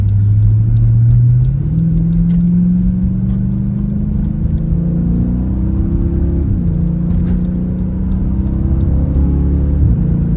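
Jeep SRT engine rumbling low and climbing steadily in pitch through the gears while accelerating up to speed on the road, heard from the cabin, continuous and fairly loud with no talk.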